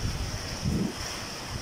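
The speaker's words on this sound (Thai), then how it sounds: "ลมอย่างแรงเลย" Strong wind during a rainstorm lashes large trees and coconut palms: a loud, steady rushing roar with microphone buffeting and no voices.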